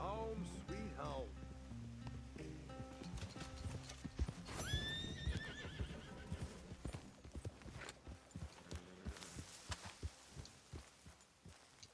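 In Red Dead Redemption 2, a horse whinnies loudly while steady clip-clopping hooves continue throughout, with rustling in the background.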